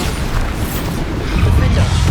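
The Bombarda explosion spell in Hogwarts Legacy on PS5 lands as a loud, deep, rumbling boom that swells toward the end, with a voice calling out over it.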